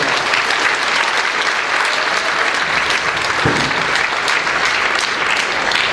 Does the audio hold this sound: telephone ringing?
no